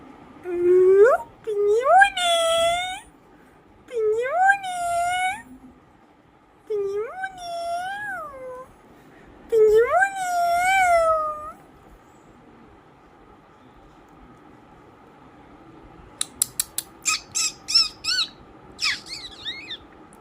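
Several drawn-out, wavering meows from a cat, repeated in a loose rhythm, followed by a quick burst of sharp clicking or rattling sounds.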